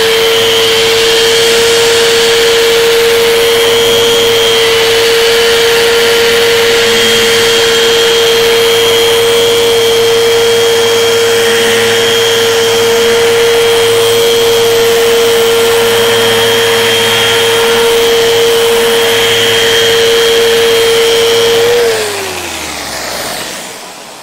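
A Rotex sander running in Rotex mode with 220 grit paper, a loud, steady motor whine with a constant tone that holds for about twenty seconds before spinning down at the end, with no talking over it.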